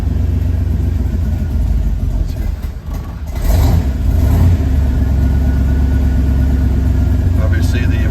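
A 1966 Corvette engine starts from cold and settles into a loud, steady rumbling idle, with a brief dip and surge as it catches; someone talks over it.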